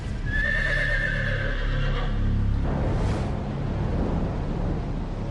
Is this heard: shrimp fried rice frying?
no